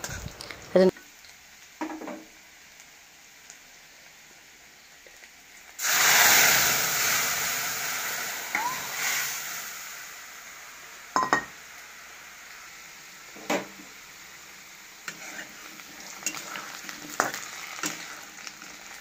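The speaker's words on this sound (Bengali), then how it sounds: "বেগুন অর্ধেক ভাজতে দিয়েছি আর অর্ধেক ভাজা হচ্ছে" Eggplant pieces frying in a pan give a soft steady sizzle that swells loudly for a few seconds midway, then settles back beneath scattered light clinks and kitchen knocks.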